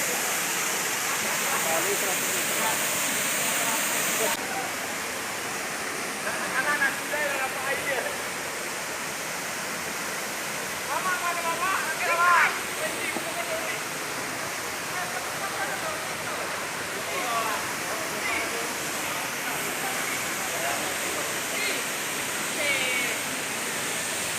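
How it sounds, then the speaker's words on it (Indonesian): A waterfall roars steadily in a broad hiss of rushing water, with faint voices now and then underneath. "Nampak air terjunnya Om? Mantap lah."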